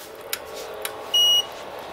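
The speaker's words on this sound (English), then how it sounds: "Let's just fire the printer up." A Two Trees Bluer Plus 3D printer gives a single short, steady electronic beep on power-up, clear and close, preceded by a couple of faint clicks in a quiet room.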